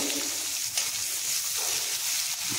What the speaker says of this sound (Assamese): এইফালে তেলত আকৌ জিৰা দিছোঁ